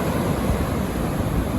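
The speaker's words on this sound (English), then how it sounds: "The waves are really very big" Big ocean waves break on a shore in a dense, continuous roar of surf, loud and close, with some wind rush and no voices.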